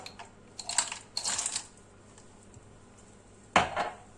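Pieces of chocolate are dropped into a pot of hot milk, producing two quick clattering bursts close together, a quiet pause, then one more sharp clink and rattle.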